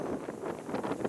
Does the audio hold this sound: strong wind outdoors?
yes